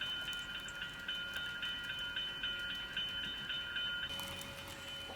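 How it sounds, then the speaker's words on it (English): Model train, the Canadian, rolling along a Western Canada layout toward a storage screen, a steady faint rumble and rail patter with a soft metallic ring holding at an even level throughout, with no voices. "We say goodbye to the Canadian as it heads eastward towards Toronto, back behind this train storage screen."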